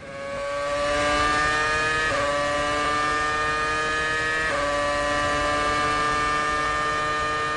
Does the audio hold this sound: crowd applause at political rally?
no